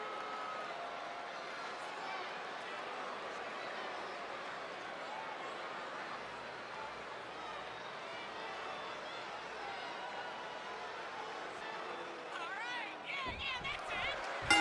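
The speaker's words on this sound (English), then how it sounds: "The crowd is electric" Arena crowd in the WWE 2K24 video game cheering before a tag team match: a steady, dense roar that holds for the whole stretch, with a louder burst of noise and thumps near the end.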